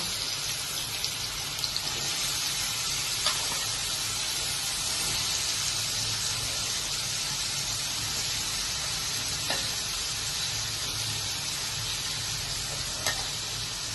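Grated sweet potato shreds sizzle steadily in a hot pan for a halwa, a continuous close hiss and crackle with a few sharper pops and no talking.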